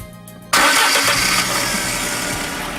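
Fiat Tempra 16V 2.0 engine with Magneti Marelli electronic injection starting, a quiet lead-in and then an abrupt loud catch, settling into a steady, strong idle roar close by.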